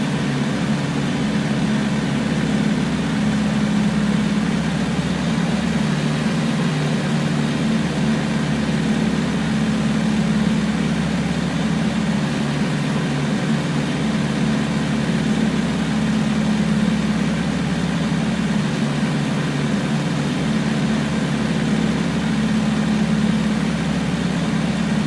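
A Piper Cub light airplane's engine drones steadily on landing approach at reduced throttle, a constant low hum with no talk.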